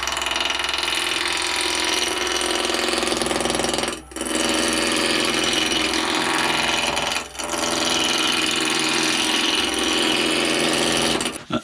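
A metal lathe trues up the ends of a tube with a loud, continuous grinding cutting noise close by, broken by two brief pauses before it resumes.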